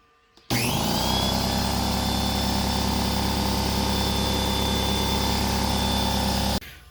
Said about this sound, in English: So the compressor ran its first cycle from completely empty to full, no issues at all.